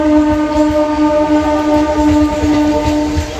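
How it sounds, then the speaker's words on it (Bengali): A long-distance express train rushes past nearby, a loud sustained rumble of wagons topped by a steady tonal horn-like drone, continuous with no voices. "প্রচণ্ড আওয়াজ পাশ দিয়ে ট্রেন যাচ্ছে দেখতেই পাচ্ছেন"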